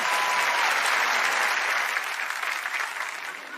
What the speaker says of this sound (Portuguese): Palmas pra mim.